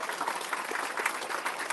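An audience claps for a high school jazz combo, a short, fairly faint, even spell of many hands clapping together, with no voices over it.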